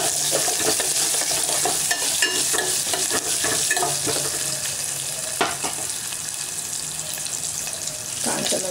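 Asafoetida powder frying in hot oil while cooking garlic curry, a steady close sizzle with stirring clatter throughout and faint kitchen water noise behind.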